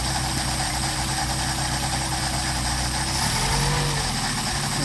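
Mercedes 190SL engine idling on Solex carburetors during carburetor testing, a steady, loud, continuous rumble with a slight shift in tone partway through.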